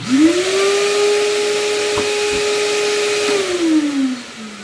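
Concrete vacuum hooked to a concrete sander runs with a steady droning whine, and a short pulse of air reversing through the filter cuts in partway before the motor pitch drops away at the end.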